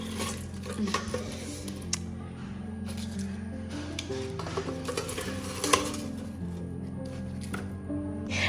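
Metal utensil scrapes and clinks against an air fryer basket as fried meat is scooped out, a series of irregular scraping and tapping sounds.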